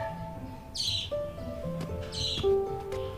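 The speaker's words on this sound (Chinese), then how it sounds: "哎，怎么变2只小鸟了？" Two small birds chirping in a quiet palace setting, two separate bursts of high tweets about a second and a half apart, clear and close over low background tones.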